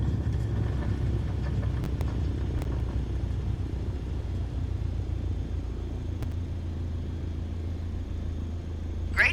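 In MS Flight Simulator 2020, an airliner rolls out on the runway under braking, a loud, steady low rumble of engines and wheels that holds throughout, with a few faint clicks and a brief rise at the end.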